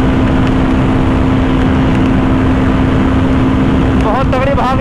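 A KTM Duke 390 BS6 and a 2024 Royal Enfield Guerrilla 450 motorcycle in a drag race: loud, steady engine drone with heavy wind rumble throughout, under excited talk, with a higher whining pass near the end.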